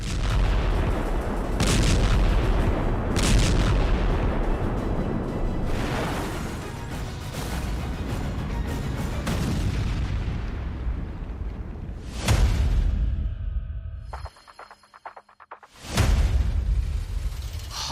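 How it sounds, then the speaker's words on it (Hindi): Heavy blasts from an Israeli air strike roar in a dense, loud rumble, with sharp booming bursts near 2, 3, 6, 12 and 16 seconds; a brief quiet dip follows before a final loud explosion. "मोसाद की इसी इनपुट पर इजरायली एयरफोर्स एक्टिव हुई और फिर एक बड़ा सा धमाका हुआ और सब खत्म।"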